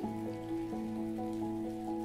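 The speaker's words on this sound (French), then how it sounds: "Tu écoutes la pluie chanter sur la nature," Rain falls steadily on plants and open ground outdoors, a continuous soft patter with scattered drop hits, alone and without voices, under a sustained tonal hum.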